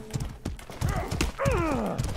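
Horse hooves clip-clop rapidly in the medieval combat video game Mordhau, then a loud drawn-out neigh rises and falls near the end, with battle noise around it.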